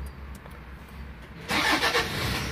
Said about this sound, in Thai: รถของคุณก็จะสตาร์ทได้ง่ายอย่างง่ายดาย